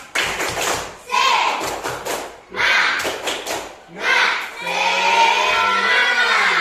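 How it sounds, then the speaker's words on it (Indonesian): A school class claps in rhythmic bursts while young voices chant together, several loud clapping phrases ending in a sustained shouted cheer. "marilah kita teriakkan bersama-sama tepuk semangat ya"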